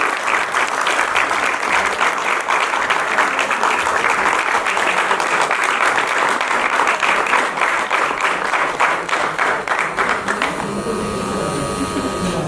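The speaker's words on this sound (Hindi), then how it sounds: "जोरदार तालियां मन्नू सिंह रावत जी के लिए" Loud, sustained audience applause at an award ceremony, a dense wash of clapping that fades out in the final seconds as a voice begins.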